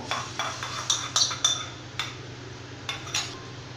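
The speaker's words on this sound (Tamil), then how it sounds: "நெய்யில் வறுத்த முந்திரி அந்த நெய்யோடு நம்ம கொஞ்சம் ஊற்றிக்கலாம்" Ghee-fried cashews poured into a coconut milk dish and stirred, a faint background hum under scattered light clinks and scrapes of a spoon against a pot, close by with no talk.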